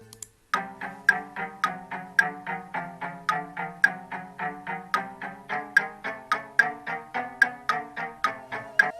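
A bright, plucked synth melody of evenly spaced notes in a steady quick rhythm, made in an online music grid sequencer, looping with no voices.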